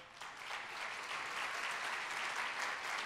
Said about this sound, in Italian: Vogliamo fare un applauso a Tiziana?